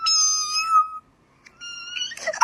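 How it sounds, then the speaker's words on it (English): A pet cat gives two very high-pitched, drawn-out meows, the first about a second long and the second after a short pause, close and loud, ending in a brief rustle. "My cat's meow is so high-pitched"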